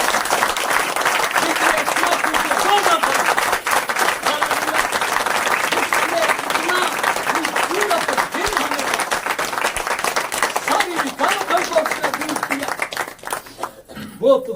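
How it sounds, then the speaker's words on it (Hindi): Loud, sustained applause from a church congregation at an Easter Sunday service, steady clapping for the preacher that runs for over ten seconds before thinning out, with voices mixed into the crowd noise. "जोरदार तालियां उसके लिए बजाइए।"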